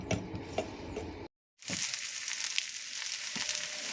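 Marinated rava-coated fish frying in a pan, a steady bright sizzle close by that cuts out briefly and returns, with faint crackles and no talk.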